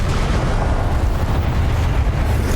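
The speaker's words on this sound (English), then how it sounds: "Expelliarmus!" An Expelliarmus spell going off in Hogwarts Legacy on Nintendo Switch: a loud, sustained, booming burst with heavy rumbling low end and broad crackling noise, holding steady for a couple of seconds.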